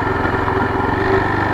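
Motorcycle engine pulling in second gear with smooth throttle and no clutch at slow speed, a steady, close, continuous mid-pitched drone that holds level throughout.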